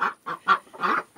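Ducks quacking nearby on a morning visit, four or five loud honking quacks in an uneven series with short pauses between, no talk over them.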